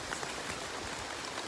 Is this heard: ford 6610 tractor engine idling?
no